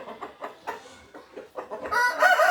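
Roosters cluck in quick, rhythmic bursts close by, building into a loud, strained crow at the end; no talking.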